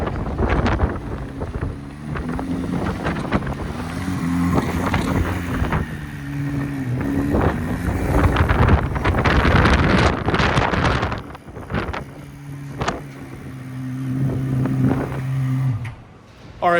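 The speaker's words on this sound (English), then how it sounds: "There's like 70-mile-an-hour winds" Strong gusting wind, around 70 miles per hour, roars loudly and steadily against the microphone outdoors, with buffeting swells and a low hum underneath, and no one speaks.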